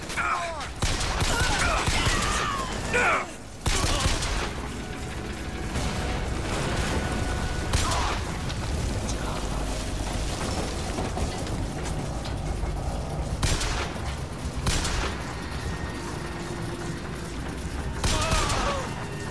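Gunfire in the BioShock Infinite video game on a skyline level, with busy, continuous bursts of shots and mechanical clatter filling the whole stretch, loud and dense, with a few brief lulls and occasional voices mixed in.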